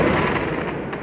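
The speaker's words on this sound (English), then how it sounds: "you can still hear people still shooting off fireworks" Dense, continuous crackle and popping of neighborhood fireworks on New Year's night, heard from a distance as a steady rumbling wash with no talk.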